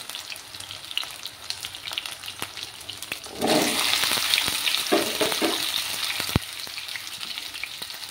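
Ghati kachu (taro stems) drop into hot oil over lowered heat for a small tangra fish curry, setting off a loud, steady sizzle that swells midway and is stirred with scraping clinks.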